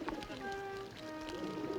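Homing pigeons coo in a steady run of soft, throaty calls that continue close by for the whole stretch, with a light tonal backdrop underneath and no talking.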